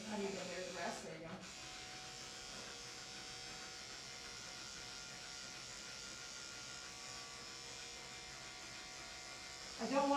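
Electric clippers buzz steadily at close range, shaving through heavily matted fur, a continuous drone that runs the whole time with a brief louder burst near the start and again at the end.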